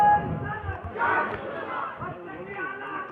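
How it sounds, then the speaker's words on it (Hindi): Outside an Eid gathering, a crowd raises Takbir slogans as the Hazrat arrives, a rough swell of massed shouting and chatter that comes in waves, with a voice over a loudspeaker urging the people on. "खड़े हो जाइए, खड़े हो जाइए, नारे लगाए, नारे तकबीर"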